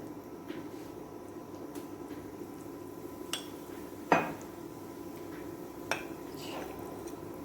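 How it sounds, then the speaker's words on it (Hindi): A spoon knocks and clinks now and then against a bowl while milk is mixed into mango custard powder, producing sparse, scattered taps at moderate loudness over a low steady background hum. "इसमें दूध डालकर इसको हम मिक्स कर लेंगे"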